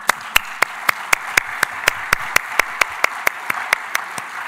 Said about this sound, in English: That is really worth applauding.